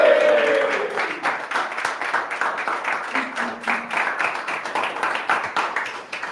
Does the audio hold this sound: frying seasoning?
no